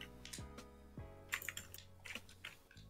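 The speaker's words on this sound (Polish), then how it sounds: "Słyszymy gra na klawiaturze jak jakiś labus." Computer keyboard clatters with quick, irregular key presses and a few sharper taps, close and fairly quiet, during a Rocket League gaming session.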